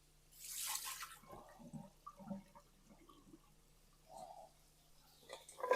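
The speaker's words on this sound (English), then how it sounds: "I'll drain off the potatoes." Water drains off boiled potatoes in a kitchen, starting with a brief rushing pour and followed by soft gurgles, splashes and drips against a quiet background hum.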